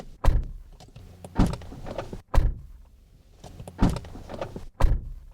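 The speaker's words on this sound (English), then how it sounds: "thunk of the door" A small car's door shuts again and again with a solid, deep thunk, each close a sharp low impact followed by a short rattle, repeated roughly every second and heard up close with no talking.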